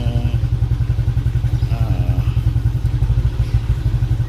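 A motorcycle engine idling while warming up, a steady close-up thumping putter with an even rhythm throughout.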